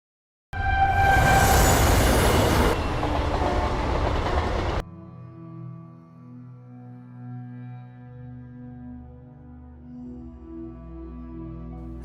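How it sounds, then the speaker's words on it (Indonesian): A loud rushing roar of a passing train fills the first few seconds, then drops abruptly to a low, distant rumble. "Tak lama kemudian, kereta api melintas."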